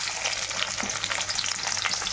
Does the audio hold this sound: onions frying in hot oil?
yes